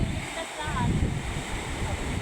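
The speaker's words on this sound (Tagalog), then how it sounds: "Lakas ng alon." Strong sea waves surge and wash in a steady broadband roar, close and mixed with wind buffeting, with voices faintly audible at times.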